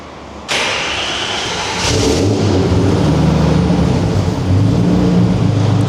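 A Nissan GQ Patrol engine cold-starts and fires up loudly, then settles into a deep, rumbling idle through a throaty custom 89mm Powerflow exhaust, with a slight rise in revs.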